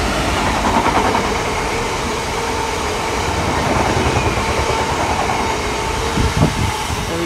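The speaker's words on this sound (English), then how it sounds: "There we go, oil train, class 66." A Class 66 diesel locomotive hauls a freight train of oil tank wagons through Market Harborough station, a loud, continuous rumble and rattle of wagons passing close by with no talk.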